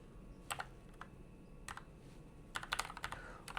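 Computer keyboard keys are typed in a few quick bursts, entering a web address into a browser. The close, crisp clicks come in small clusters separated by pauses, with no one talking.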